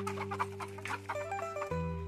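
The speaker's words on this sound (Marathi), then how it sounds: "कोंबड्या." Hens cluck close by in short, uneven bursts, with a steady electrical hum running underneath.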